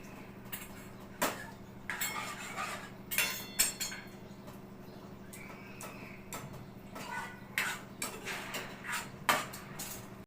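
A spoon clinks and scrapes intermittently against a pan while milk cream is stirred to make ghee in a home kitchen, with irregular metallic taps and quiet gaps between them.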